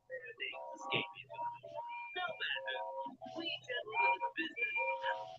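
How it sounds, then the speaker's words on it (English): An excited crowd erupts in a chorus of cheers and bright, shrill whistles, loud and close, with voices mixed through the noise. "the rest of his speech was drowned in a delighted chorus of cheers and whistles"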